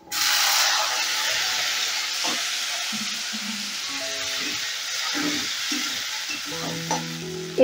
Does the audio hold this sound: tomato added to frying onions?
yes